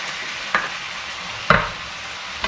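Ground beef stirred with beef broth in a pan for shepherd's pie, a soft bubbling simmer with three distinct spoon scrapes about a second apart, close and without voices.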